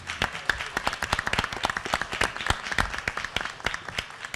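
At a school board meeting, a small audience gives mentors brisk, scattered applause, with many hands clapping together in a lively, close patter that never lets up.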